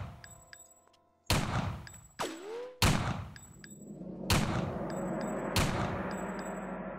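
Several sharp gunshots ring out in a sniper video game, spaced irregularly with a metallic ring and long decaying echo after each, loud and close with no talk.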